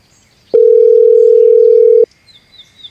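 A telephone dial tone sounds as a call is placed in an animated comedy: one loud, steady, unbroken tone lasting about one and a half seconds, starting and stopping abruptly, with near silence before and after.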